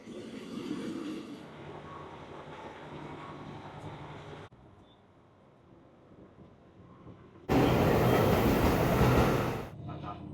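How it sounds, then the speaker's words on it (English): A train rumbles past at South Chitose Station in Hokkaido, a low steady roar that dips briefly before swelling into a loud rushing passage, then easing off. "On a given day, between 100 and 150 trains pass through South Chitose Station."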